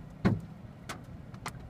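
Hailstones from a dime-to-quarter-size storm in Austin, Texas hitting a car: a few scattered, dull thumps on the body, one louder knock then lighter ones, over a quiet cabin rumble with no talk.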